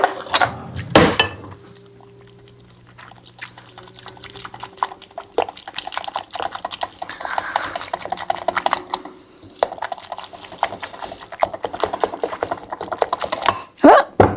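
A little whisk mixes in a bowl for butterscotch Rice Krispie treats, making quick, rapid ticking taps in irregular bursts, with a few louder knocks near the start and end.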